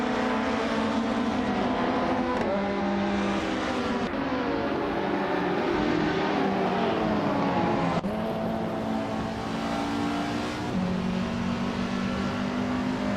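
Ultralights-class cars racing at Road America in a video game, a loud sustained engine drone that rises in pitch through each gear and drops sharply at every shift, layered by several cars, with no talking.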